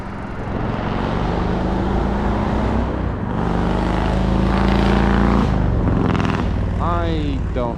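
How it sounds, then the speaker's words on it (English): Car approaching along a road while riding an e-bike on a trail, its engine swelling under a constant roar of wind rush, with a voice briefly at the end. "And there's a car coming, of course."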